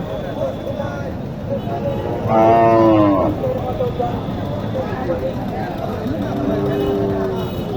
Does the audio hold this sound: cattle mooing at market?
yes